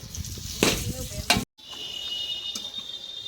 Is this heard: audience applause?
no